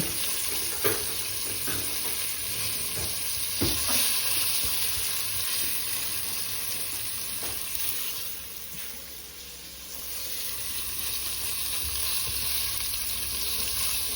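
Beef sizzles steadily in a hot pan, a dense continuous frying hiss with small crackles and a brief dip midway as the meat is turned, no voices.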